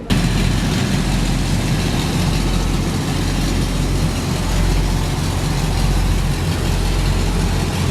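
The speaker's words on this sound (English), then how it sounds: "Ooh, media truck." A media truck's engine idles close by, a steady low rumble with a faint periodic throb, continuous and alone with no talk.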